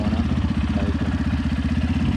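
A motorbike engine chugs in a fast, regular pulse, close and loud. It runs steadily throughout without any clear revving.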